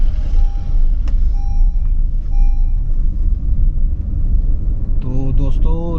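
A vehicle grinding along a hazardous mountain road on the way to Om Parvat near Gunji, with a deep continuous engine rumble close by and someone speaking over it near the end.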